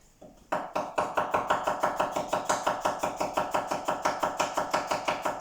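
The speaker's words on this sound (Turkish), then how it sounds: "Bir de keserken deneyelim." Rapid, steady knife chopping of an onion on a cutting board, dozens of even crisp strikes in a fast rhythm, close and loud, with no talking.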